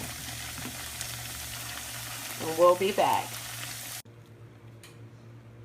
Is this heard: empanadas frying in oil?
yes